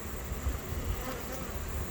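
Steady dense buzzing from a swarm of agitated honeybees around a beehive, a continuous droning hum up close with no break.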